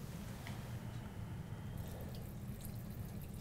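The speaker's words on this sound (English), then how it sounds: "And then I'm going to add some water." Water poured into a pot of roasted vegetables for a soy-free umami sauce, a steady, low, gurgling pour with faint splashes and drips, close and continuous, with no talking.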